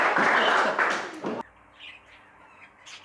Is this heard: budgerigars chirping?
yes